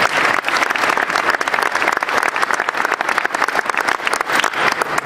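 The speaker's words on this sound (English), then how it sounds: "so a big applause to my daughter" Steady applause from an audience at a team presentation, dense continuous clapping that stays loud and even throughout with no voices rising above it.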